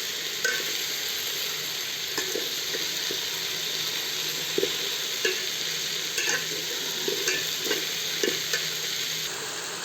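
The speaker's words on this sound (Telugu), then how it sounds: "ఈ బెండకాయలు ఇవి 2 మిక్స్ చేసి, ఎందుకంటే బెండకాయలు భిన్న ఉడికిపోతుందండి కాబట్టి ఇట్లా ఉండేటప్పుడు టమాటా పండ్లు 2 చేర్చి బాగా కలుపుకోవాలి." Okra and tomatoes stirred in a hot pan for a Rayalaseema-style bajji, with a steady sizzle and repeated scrapes and clinks of a spoon against the pan, close and alone.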